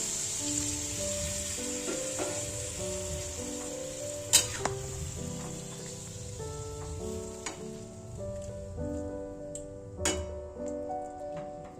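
Masala sautéing in hot oil in a pan, a continuous soft sizzle with occasional scraping and tapping of a spoon against the pan, over gentle background music with no talking.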